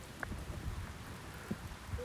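Steady heavy rain pours over an outdoor golf course during a match-play event, a dense wash of drops with a few soft thumps, moderately loud and continuous with no voices.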